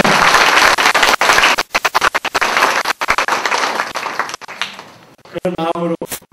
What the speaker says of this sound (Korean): 박수 한번 주십시오. 그 박수가 필요합니다.